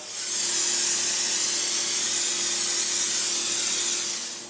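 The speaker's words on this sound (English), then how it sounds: "We're gonna spray the rack inside a roasting pan with some spray oil." A steady, close hiss of cooking oil spraying from an aerosol can onto a rack in a roasting pan, held continuously for several seconds with no talking.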